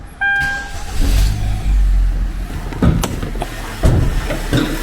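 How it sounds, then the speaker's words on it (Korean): A Hyundai Grand Starex LPI LPG van engine starts up with a short crank, then settles into a steady mid-pitched idle with a couple of brief revs or bumps, heard close and with no talking. "시동을 걸고 엔진룸을 살펴볼게요"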